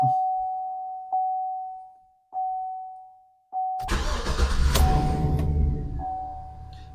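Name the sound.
pickup truck engine starting and idling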